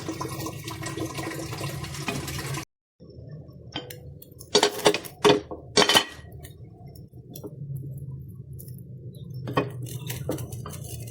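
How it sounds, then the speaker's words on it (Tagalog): A metal lid clatters onto a pot of skinless chicken sinigang vegetable soup, several sharp clanks in quick succession, set amid the low hiss of the simmering broth and kitchen noise. "Takpan natin siya at pakuluan ulit."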